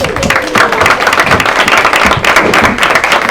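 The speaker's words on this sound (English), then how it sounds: "How about some more applause for the whole group?" Dense, steady applause from an audience at a storytelling show during a bookfair, clapping continuously at close range for the whole stretch without letting up.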